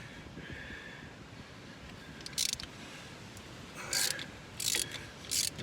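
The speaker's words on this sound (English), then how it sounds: "stick your socket and extension on a ratchet, go right through the hole in the axle flange" A socket ratchet working on axle flange bolts, quiet metallic clicking and rubbing with a few short bursts of brighter ratcheting near the end, close by and alone.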